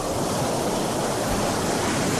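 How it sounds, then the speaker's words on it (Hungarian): Ocean waves washing in as a steady, broadband roar of surf, continuous and fairly loud throughout with no distinct breaks and no voices. "Ez inkább hullám."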